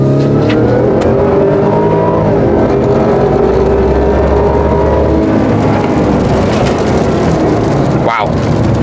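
A Ford Raptor R truck accelerates hard on a wet road in four-high, its engine roaring loud and continuous with a rising drone and a sharp burst near the end.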